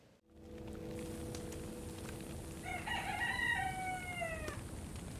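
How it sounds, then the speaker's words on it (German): A rooster crows in the video game Dawn of Defiance: a single long, drawn-out cock-a-doodle-doo rises midway through, set over a soft, constant ambient hiss and a faint low hum at the start. "Wo ist der krähende Hahn?"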